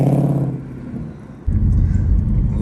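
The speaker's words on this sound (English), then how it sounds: "put it in drive and just take off just for a second" A 2021 Ford Mustang Mach 1 pulls away in the rain, its engine rumbling low and steady, then dropping briefly before a loud, deep surge of acceleration close by.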